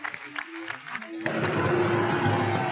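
A studio audience at a French television game show breaks into sustained applause after a short stretch of talk, the clapping rising suddenly and holding as a dense, moderately loud wash to the end.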